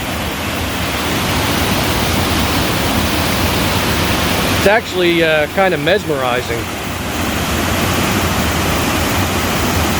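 A constant, heavy rush of water pours steadily over a dam on Neshaminy Creek, with a voice speaking briefly partway through over the roar.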